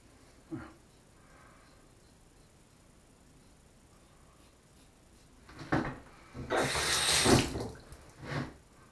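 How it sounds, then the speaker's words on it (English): A bathroom tap runs briefly as water is splashed to rinse a freshly shaved face, a short close splashing burst around a quiet stretch with faint handling noises. "let's just give a rinse to the face"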